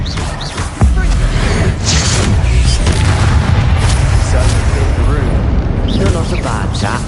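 Spell effects firing in Hogwarts Legacy, a dense booming blast with rumbling low end sustained over several seconds, loud and close, with character voices mixed in under the effects.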